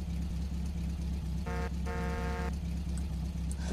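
A vehicle horn in Farming Simulator 15 sounds in two bursts, a short one then a longer one, over a steady low engine drone.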